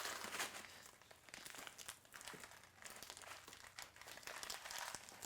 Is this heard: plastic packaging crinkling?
yes